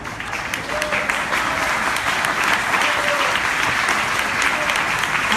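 Continuous church congregation clapping in praise, loud and even, a steady wash of many hands throughout with faint voices underneath.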